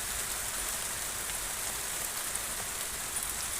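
Hail pelting down during a storm, a steady dense hiss of impacts that runs unbroken and fairly loud throughout, with no voices.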